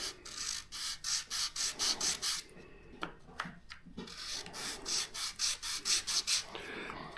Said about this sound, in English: I saw this online as a way to sand all your ribs.